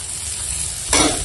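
Boiled potato stirred into bitter gourd and onions frying in a pan, a continuous close sizzle that swells louder near the end as more food meets the hot oil.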